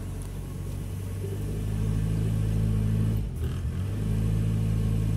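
A Chevrolet Del Rey with an automatic gearbox and a broken transmission that won't engage reverse has its engine revved at full throttle, producing a close, steady, deep drone that holds high with a brief dip partway through.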